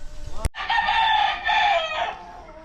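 A rooster crows once loudly and close by at a farmyard house, after a sharp knock and some brief clucking, the long call trailing off near the end.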